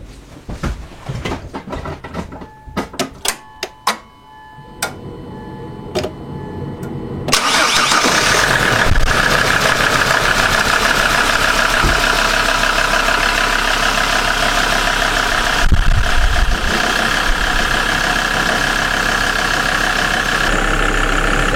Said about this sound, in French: Il n'y a plus qu'à démarrer et puis observer.